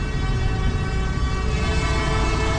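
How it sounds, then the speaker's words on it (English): A train passes near a road construction area, its horn sounding as a sustained tonal blare over the heavy rumble of rolling cars, loud and continuous with no speech. "yet the train is coming."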